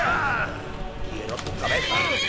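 Horses in the video game Skyrim neigh and whinny loudly nearby, with hoofbeats and a voice talking over the sounds.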